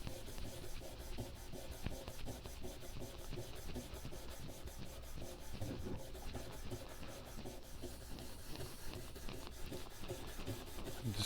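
An abrasive pad rubs oxidation off an old-school Rockford Fosgate Punch 800a4 amplifier, going back and forth with the grain in a quick, steady scratchy rhythm that stays close and fairly quiet throughout.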